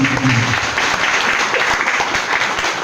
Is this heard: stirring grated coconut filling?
no